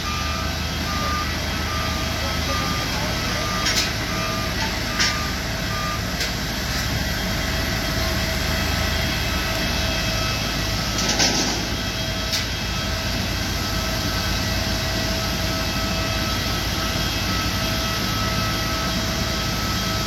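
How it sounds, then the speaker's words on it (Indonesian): Airport apron beside a Malaysia Airlines Airbus A330-200 at the jet bridge, with ground support vehicles drawing near: a steady loud engine and equipment rumble, intermittent beeping and occasional clanks, no talking. "Kendaraan-kendaraan pendukung sudah mulai mendekat"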